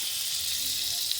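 Butter sizzles in a pan while chicken soup is being made, a steady, close, bright frying hiss that runs evenly through the whole short moment with no other sounds.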